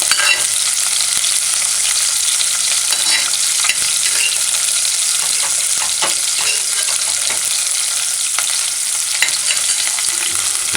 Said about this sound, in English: Just allow it to fry on one side